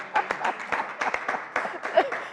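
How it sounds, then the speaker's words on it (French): Audience applauding at a French-language interview with journalist Amandine Ndikumasabo, a short burst of brisk, uneven hand claps from a small group, fairly close. "Je veux qu'on applaudisse."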